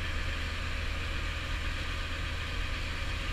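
A New Holland TR70 combine engine runs while harvesting corn, with a cab heater also going: a steady, dense mechanical drone with no breaks.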